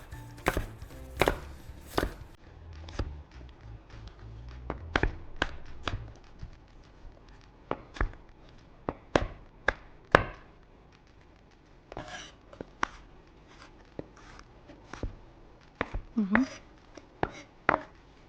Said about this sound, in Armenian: Էսի սենց մանր կտրատելու եմ։